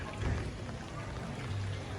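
Steady outdoor rain falling in a Ukrainian town street, a continuous even patter with no distinct drops standing out, with faint low rumbles underneath.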